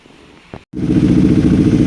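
A KTM Adventure 390 single-cylinder motorcycle engine settles into a steady, loud idle right after a brief quiet gap, running with a new iridium spark plug fitted.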